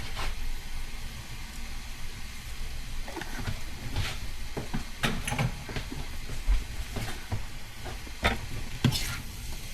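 Sautéed bitter gourd with egg sizzles in a pan as it is stirred, a continuous crackling fry broken by repeated scrapes and knocks of a utensil, close with no talking.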